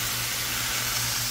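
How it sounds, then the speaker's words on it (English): Soy sauce hits a hot stir-fry pan of chicken and vegetables, producing a brief, loud, steady hiss and sizzle with a faint low hum beneath. "So now I'm going to add some soy sauce."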